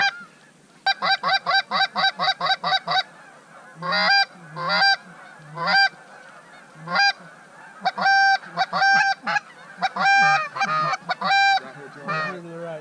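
A flock of geese honks close by in loud, rapid bursts, first a quick run of calls and then scattered overlapping honks that continue throughout.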